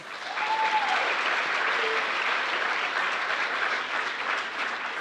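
Audience applause at a Dairy Festival scholarship pageant, a steady, even wash of clapping from a large crowd lasting several seconds, moderately loud and slowly fading a little.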